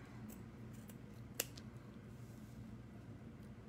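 Scissors cut a piece of ribbon for a Dollar Tree scarecrow craft: one quiet, crisp snip in an otherwise hushed room, close by.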